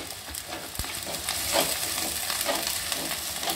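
Mint leaves fry with chicken in a hot pan: a steady, moderately loud sizzle with soft stirring scrapes, heard alone without voices.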